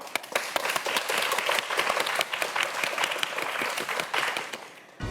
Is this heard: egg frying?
no